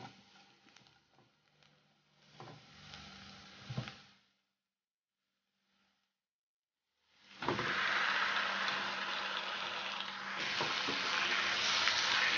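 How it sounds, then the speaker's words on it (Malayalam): Marinated chicken pieces fry with sautéed onions in a pan, a close, moderate sizzle with stirring clatter, breaking into a few seconds of silence before returning as a louder, fuller hiss of frying. "ഇനി ഇതിലേക്ക് മാരിനേറ്റ് ചെയ്ത് വെച്ചേക്കുന്ന ചിക്കൻ പീസസ് ചേർത്ത് കൊടുക്കാം"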